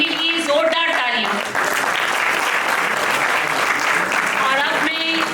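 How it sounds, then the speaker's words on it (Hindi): Loud, sustained applause from a theatre audience at a stage play honours the director, the dense clapping continuing steadily while a voice speaks briefly over it at the start and end. "नाटक के निर्देशक संकेत जैन के लिए जोरदार तालियां।"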